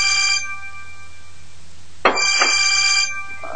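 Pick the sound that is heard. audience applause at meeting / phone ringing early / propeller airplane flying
phone ringing early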